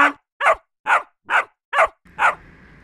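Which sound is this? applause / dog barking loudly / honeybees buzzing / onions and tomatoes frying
dog barking loudly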